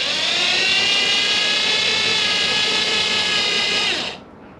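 A drill spins a precise half-inch bit through a hole, a steady high whine held close and loud for about four seconds before the motor cuts off abruptly into quiet.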